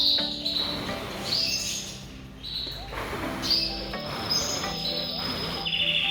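Breeding birds at the start of the pre-breeding season chirp in repeated high, sharp bursts against a quiet indoor hum, the calls coming in clusters with short gaps between them.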